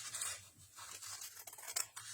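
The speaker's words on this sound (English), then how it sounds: "So just use your scissors." Faint, crisp snipping and rustling of scissors cutting through paper in a quiet room, with a few louder cuts near the end.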